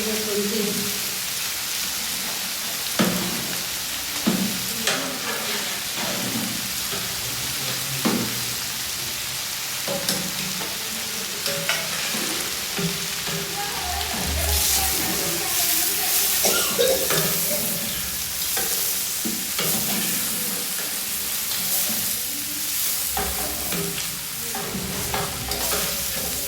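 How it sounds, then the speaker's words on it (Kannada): Garlic and ginger, about half a kilo each, fry in a large pot in a festival feast kitchen, a continuous close sizzle with frequent scraping and clanking of a stirring ladle, and faint voices in the background. "ಇವೆಲ್ಲ ಹಾಕಿ ಚೆನ್ನಾಗಿ ಫ್ರೈ ಮಾಡ್ಕೊಳ್ಳಿ"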